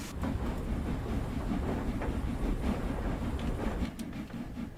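A steam locomotive in Train Sim World 2 runs on the Liverpool Lime Street to Crewe line, giving a dense continuous rumble of wheels and rail noise with rhythmic chuffing, steady and loud throughout.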